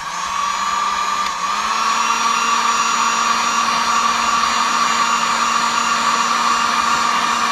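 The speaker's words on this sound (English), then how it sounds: "As I heat it up, it will shrink down and it will tighten up on the wire." A heat gun blows hot air onto heat-shrink tubing around a wire while work lights are fitted to a Kubota, giving a loud, steady, continuous whooshing roar with a slight shift in pitch early on and no talking.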